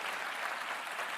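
Applause fills a national campaign launch event for local government elections, a steady dense wash of clapping throughout with no pause or voice over it.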